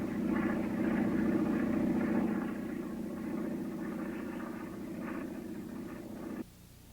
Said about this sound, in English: It had the required 125 horsepower Lycoming, it had 2 wings connected by struts, and it had an open cockpit.